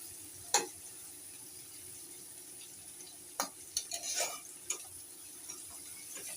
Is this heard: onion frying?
yes